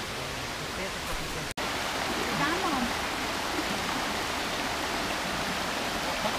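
A waterfall at a river crossing makes a steady, dense rush of water that fills the whole stretch without a break. Faint voices may sit under the roar.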